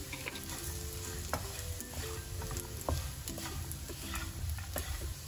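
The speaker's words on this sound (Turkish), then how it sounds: "1 dakika daha kırmızı biberle birlikte kavuruyorum." Chopped chard sautéed with red pepper powder in a pan, with a continuous moderate sizzle and light scraping stirs breaking through at intervals.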